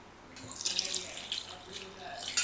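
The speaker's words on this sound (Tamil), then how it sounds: "தண்ணி ஊற்றி ஃபஸ்ட்டு கலந்து வச்சிடணும்." Water pours from a tap into a container for mixing black urad dal porridge premix, a steady splashing wash of moderate loudness that runs close by throughout, with no talk.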